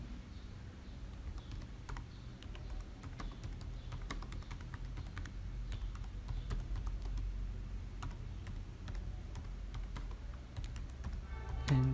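Keys tapped on a computer keyboard while a command is entered, a quiet steady stream of light clicks at an even pace, close by, with no talk.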